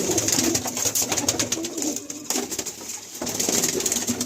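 Malbai pigeons coo together in a crowded loft, a loud close rolling murmur broken by brief wing flutters and rustling.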